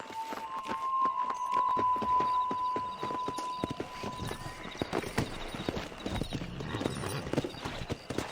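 Horse hooves clip-clop steadily while riding in Red Dead Redemption, a close, rhythmic clatter of repeated hoofbeats with a sustained whistling tone early on and game ambience throughout.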